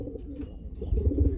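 A large racer pigeon coos in low, throaty rolls close by, the calls swelling louder toward the end with no talk over them.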